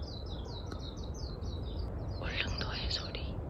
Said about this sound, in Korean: 도시 살면 새소리 듣기 어려운데.